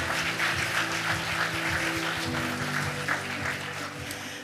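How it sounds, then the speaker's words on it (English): A workshop audience gives a round of applause for a performance, a dense steady clapping that fills the room, sustained throughout with a low hum underneath. "give another big round of applause to Ms. Kang So-young for the wonderful performance as well"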